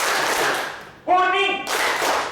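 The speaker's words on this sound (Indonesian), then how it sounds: "tolong tepuk tangan 2 kali" An audience at a university library talk answers a colour game with bursts of group clapping, one before and one after a single loud shouted word.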